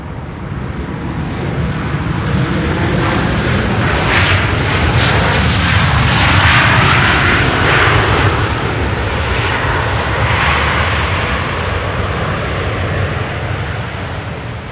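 A jet airliner lands on Schiphol's Polderbaan runway, deploying thrust reversers; a loud, sustained broadband roar swells and holds throughout, rumbling low with a hissing upper layer, close and dominant with no voices.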